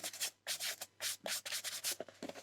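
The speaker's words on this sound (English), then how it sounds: "rather than rub the edge of this with the dust wrapper on, I'm just going to do it on its own" Repeated rubbing strokes along the edge of a vintage 1930s paperback book with its dust wrapper removed, a close, rhythmic dry scraping in about five bursts with short pauses, no talking.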